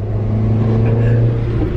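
A car engine running inside a moving car on Martinique, a loud steady low hum with a strong droning tone and slight swell, heard from within the cabin with no talk.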